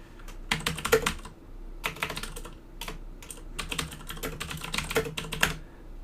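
A computer keyboard types a command to install the rr record-and-replay debugger: close, clattering bursts of quick keystrokes with short pauses between runs, no speech.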